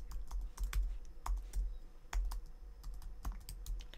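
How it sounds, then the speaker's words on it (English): Computer keyboard keys clack in quick irregular bursts, close and fairly quiet, as someone types on a Mac without any talking. "press space bar and then start typing"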